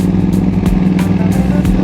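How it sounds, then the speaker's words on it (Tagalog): A Ducati Panigale 959 V-twin motorcycle engine rumbles close by, a loud, rough, pulsing idle with a slight throttle blip. "Napaka pogi ng napaka brusco ng tunog ng V-twin itong Ducati."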